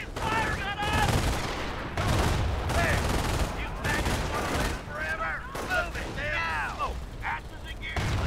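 Heavy gunfire and booming cannon shots in Company of Heroes, with a German 88 gun firing amid bursts of machine-gun fire; people talk over the loud battle noise.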